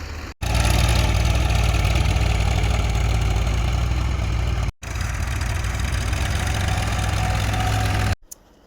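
A tractor engine idles steadily and loudly nearby, a continuous low rumbling drone that cuts out briefly twice with short gaps of near-silence, then resumes at the same level.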